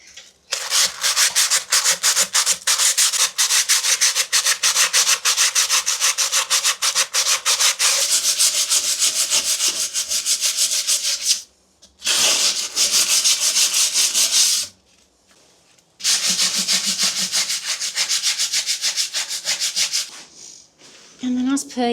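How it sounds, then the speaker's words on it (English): Light sandpaper rubs a thin layer of rust off metal during a Victorian wash house restoration: steady, close, scratchy strokes in a quick repeating rhythm, broken by a few short pauses. "what I do have are a couple of pieces of really light sandpaper"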